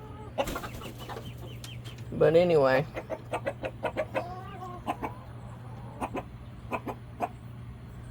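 Backyard flock of hens and young roosters clucking in short, scattered calls, with one louder burst of squawking near the middle, close by over a steady low hum; someone speaks briefly.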